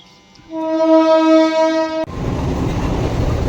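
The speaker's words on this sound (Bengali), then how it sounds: "ফাঁকা রেলগাড়ি লালগুলা রুটে" An empty passenger train on the Lalgola route sounds a long, loud, steady horn blast close by, which cuts off abruptly into a rushing roar of the train passing.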